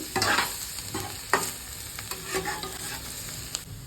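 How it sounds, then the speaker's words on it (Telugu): Sliced bitter gourd fries over low heat in a pan, a soft steady sizzle under repeated scraping strokes of a spoon stirring it, close and fairly quiet with no talking. "ఇప్పుడు గ్యాస్ సన్నగా పెట్టి దీన్ని ఫ్రై చేసుకుందాం. మధ్యలో మధ్యలో కలుపుకోవాలి"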